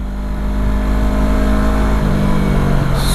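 A motorcycle running with its exhaust pipe removed, its engine droning loud and steady with a deep rumble that lifts slightly in pitch near the end, heard close up while riding on a road, with no talk over it.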